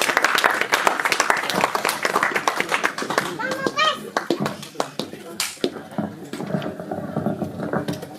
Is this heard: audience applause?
yes